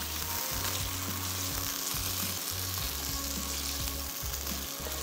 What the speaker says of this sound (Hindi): खूब अच्छे से भुन जाएगा